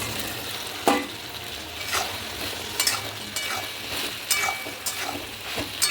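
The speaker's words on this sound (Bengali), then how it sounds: "আমি এর মধ্যে এবারে চিকেন পকোড়াগুলো ঢেলে দেবো" Chicken pakoras are tipped into a frying pan of sauce and stirred, giving a soft continuous sizzle broken by repeated scraping strokes of a spoon against the pan.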